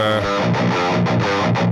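A crunchy, mildly distorted electric guitar riff plays alone through a British-style amp crunch tone, chords chugging in a steady rhythm with a gritty, warm amp tone.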